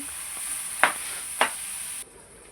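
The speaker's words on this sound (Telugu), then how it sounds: "పచ్చిమిర్చి కట్ చేసుకున్నాం కదా ఆ ముక్కలను వేసుకొని వేపుకోవాలి మధ్య మధ్యలో కలుపుతూ ఉండాలి" Chopped green chilli pieces fry in a pan with a steady, close sizzle, broken by two sharp scraping strokes as they are stirred, before the sizzle suddenly drops quieter.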